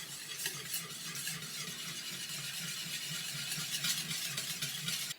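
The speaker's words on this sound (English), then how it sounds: "we're going to whisk this together" Mustard, salt and pepper whisked together in a bowl, a steady, continuous scraping and stirring texture with quick repeated strokes, close and moderately loud, with no talking.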